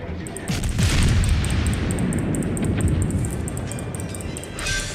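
Cruiser guns fire and shells explode in the World of Warships naval game, a dense rumbling barrage of booms that rolls continuously and loudly for several seconds, with faint game interface chimes above it.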